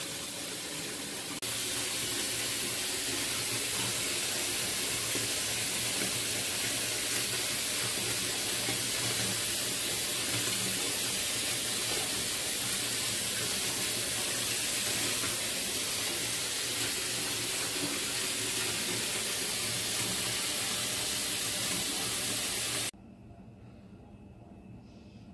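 A bathtub fills from the tap, with water pouring in a loud, steady rush that starts moments in and holds for about twenty seconds before cutting off abruptly into quiet.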